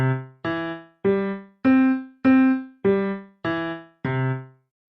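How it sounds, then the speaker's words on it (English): Synthesized piano tones from Chrome Music Lab Song Maker, eight separate notes in an even, steady rhythm, each with a clear attack and a short decay, played alone and close. "We have the option of a piano"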